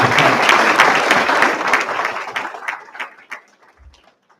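A crowd at a high school senior awards ceremony applauds loudly, the clapping dense at first, then thinning into scattered claps and fading out.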